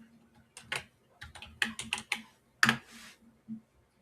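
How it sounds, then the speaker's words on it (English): Keys on a computer keyboard are tapped to enter a new password, a close, quiet burst of about a dozen irregular clicks with short pauses between them. "We'll type new password."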